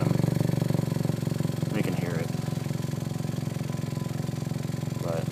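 Honda Civic idling with an exhaust leak along the bottom, a steady close rumbling drone that carries all the way through, with faint voice-like sounds briefly over it.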